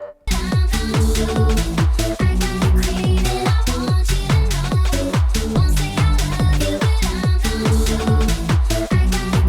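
A repeating synth bass pattern for speed garage, EQ cut below about 400 Hz, with plucky, mid-focused notes and thin lows, looping steadily in a rhythmic groove.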